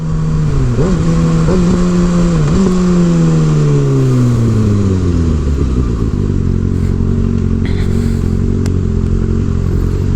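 A Kawasaki ZX-6R motorcycle engine blips its throttle over a hump, loud and close, with quick revs rising and falling before settling into a steady lower drone.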